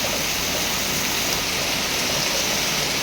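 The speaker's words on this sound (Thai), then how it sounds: "บรรยากาศทุ่งนาในวันที่ฝนตกค่ะ" Steady rain pours over rice fields, a dense, even hiss with no break, close and fairly loud, with no voices.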